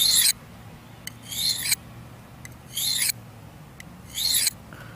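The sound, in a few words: knife blade drawn across a field sharpening stone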